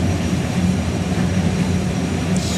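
The jet turbine engine of the Fire Force 2 drag racing car roars loud and steady at a drag strip, a continuous rumbling whine with no pauses.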